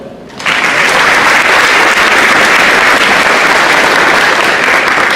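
Loud, sustained applause from a large crowd at a high school athletic signing event starts abruptly and continues steadily without letting up.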